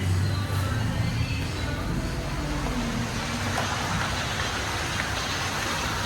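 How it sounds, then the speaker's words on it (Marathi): Light rain falling outdoors, a steady, even hiss of drops with a faint low hum underneath, no voices. "हलका हलका पाऊस येतोय आपल्या इकडं"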